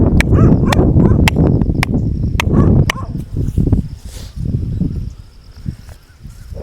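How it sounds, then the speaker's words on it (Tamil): Several dogs in an open farm field bark in a run of sharp, loud, closely spaced barks, then quieter scattered yelps and rustling, with distant noise behind. "இதுனா இத்தனை நாய் வருது."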